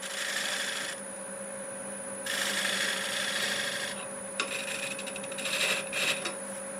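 A turning tool scrapes and cleans up the dovetail on a walnut bowl spinning on the lathe, producing a steady rasping hiss over a constant motor hum, with a few light ticks and catches near the end.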